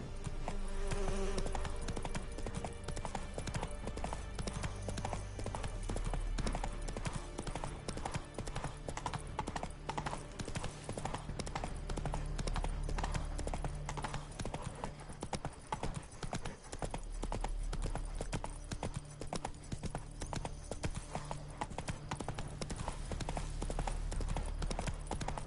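Hooves of a galloping horse in The Witcher 3, a continuous rapid clip-clop over more than twenty seconds, fairly quiet, with a buzzing insect-like hum of game ambience underneath.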